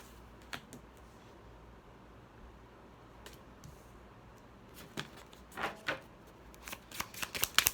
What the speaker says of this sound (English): Let me go ahead and get some cards out